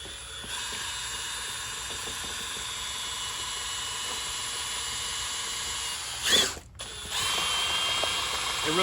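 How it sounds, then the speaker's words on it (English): A handheld drill fitted with a handle whirs steadily while mixing restoration compound for a 1979 Ranger bass boat, a continuous mechanical drone that briefly cuts out and restarts near the end. "It really helps having one of these drills that's got a handle on it versus last time"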